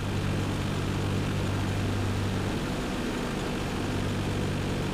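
Cessna 172 propeller engine in the Prepar3d flight simulator, a steady droning hum during a landing approach with full flaps, its low tone dropping partway through as the throttle is eased, with no talking.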